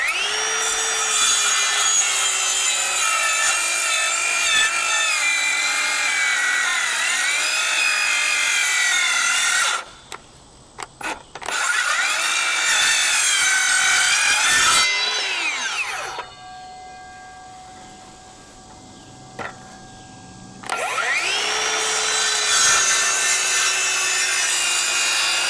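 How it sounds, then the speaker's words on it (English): A Sawzall reciprocating saw cuts through wood for high-angle solar mounts, a loud, steady buzzing rasp that runs in long passes, broken by two brief pauses and a quieter stretch before the cutting resumes. "And now the reason for the Sawzall is when you cut it like that"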